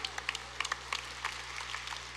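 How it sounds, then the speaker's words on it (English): A church congregation at an Episcopal revival service in Southwestern Virginia claps during the sermon, a faint, scattered patter of hands from the room without a voice. "go ahead and applaud"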